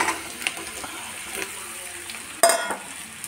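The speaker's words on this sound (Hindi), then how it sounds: "आलू को साथ ही नमक को भी ऐड कर दूंगी और इसे अच्छे से नमक आलू में मिक्स करके फ्राई करूंगी" Sliced potatoes and onions with salt sizzle in a hot pan on an Indian home stove, a steady close frying hiss with scraping stirs and one sharper clatter partway through.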